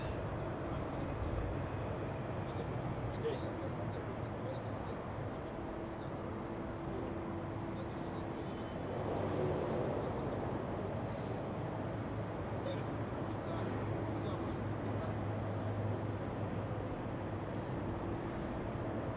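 A plane landing at Zurich Airport during Storm Goretti, heard as a steady, distant jet rumble mixed with wind noise, continuous and fairly faint throughout.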